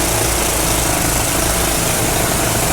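An old gasoline engine found and revived, running steadily and loud in close range, with a constant rough drone and vibration and no voices over it.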